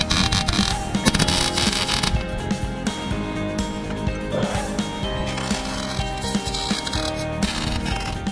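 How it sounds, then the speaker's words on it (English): Wire brush scrubbing welded areas on a steel axle bracket for a 40 series Troopy rear brake conversion, a continuous loud, close, harsh scratching with rhythmic strokes throughout. "Now clean those welded areas up with a wire brush."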